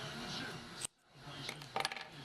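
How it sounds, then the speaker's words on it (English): Scissors snip through crochet yarn during work on a baby sweater, heard as a sharp close metallic cut followed by a short near-silence, then small clicks and handling sounds. "Then we just cut our yarn"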